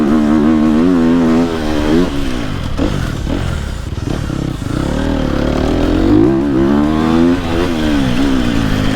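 A Sherco enduro motorcycle engine revs hard off-road, its loud, close buzzing note rising and falling with throttle changes, with some clatter and scraping.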